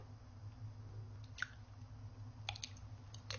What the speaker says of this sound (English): bigger water jelly,